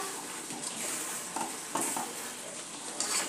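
Pattakobi (cabbage) manchurian with finely chopped spring onions is stirred in a pan, giving a steady sizzle with scattered spoon scrapes and light metallic clinks against the pan.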